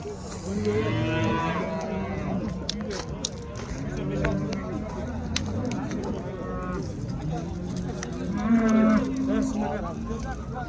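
Several bulls low and moo repeatedly at a busy livestock market, the calls loud and near, overlapping the steady chatter of buyers and sellers haggling in the background.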